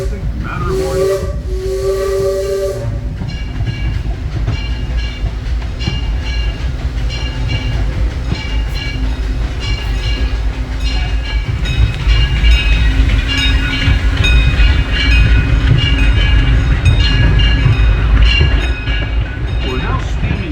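Disneyland Railroad steam train, engine 5, running in the rain: a loud steam whistle blast opens, then a continuous rumbling chug and hiss of steam with rail clatter carries on steadily, close and loud throughout.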